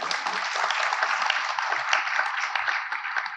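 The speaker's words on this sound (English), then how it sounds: "A huge applause for sir." Applause at an awards ceremony, a continuous patter of many hands clapping at moderate volume, crisp and even with small irregular peaks and nobody talking over it.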